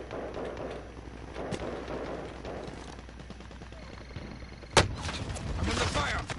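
Gunfire in the Warzone video game: scattered distant shots and bursts, then a sharp, loud close shot followed by heavier rapid firing, under a busy game soundscape with faint voices.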